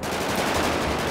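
Sustained automatic gunfire in the video game GTA 5, a continuous, close burst of rapid shots with a harsh, noisy texture.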